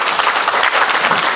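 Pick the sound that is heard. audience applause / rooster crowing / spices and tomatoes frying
audience applause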